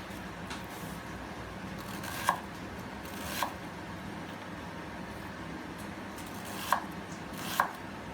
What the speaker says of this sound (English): Chopped onions.